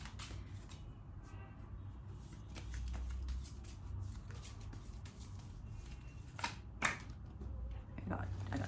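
Tarot cards being shuffled by hand, a faint soft riffling and patter with a few sharper flicks near the end, quiet and close.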